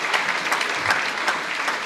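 An audience applauding at a school hall naming ceremony in Palma di Montechiaro, a continuous dense patter of many hands clapping, close and steady with no one speaking.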